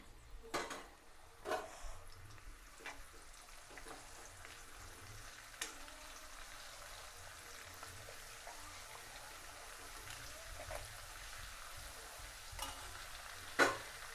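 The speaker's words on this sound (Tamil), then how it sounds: "எண்ணெய் லைட்டாக சூடாக ஆரம்பித்தோன்னே நான் கரிசலாங்கண்ணி இலையை சேர்த்துக்கிறேன்." False daisy leaves and fenugreek powder go into warming oil for a homemade aloe vera hair oil, producing a soft, quiet, steady sizzle broken by a few sharp stirring clicks.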